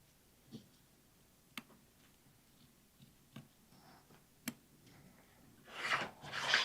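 Scissors trim fabric around machine embroidery stitches on a towel holder project: a few faint, spaced snips, then a louder rasping cut of cloth near the end.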